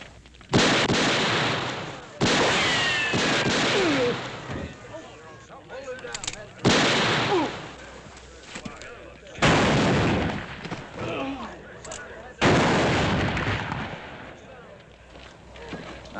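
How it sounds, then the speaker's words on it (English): Gunfire from an old western television show rings out in several loud, separate bursts of shots, each ending in a decaying echo, with brief gaps between volleys and some background voices and commotion. "That's enough shooting."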